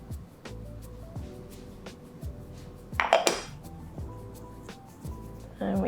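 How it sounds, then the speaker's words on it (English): Chili seasonings being stirred in a crock pot, with a spoon clinking and scraping rhythmically against the pot, a louder scraping burst in the middle. "And we stir it all together very carefully."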